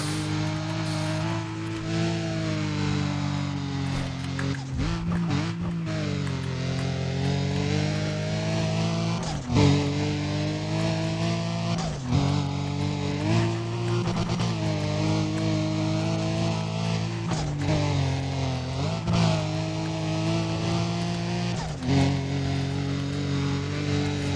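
Sustained car engine in the racing game Need for Speed: Undercover, revving and shifting through gears with rising and falling pitch, loud and continuous throughout with brief dips between gear changes and no talk.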